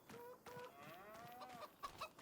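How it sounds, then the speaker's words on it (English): Several chickens in Farming Simulator 25 cluck and chatter in short, bright bursts over a steady background hum, with a higher squawk near the end. "Chickens right here."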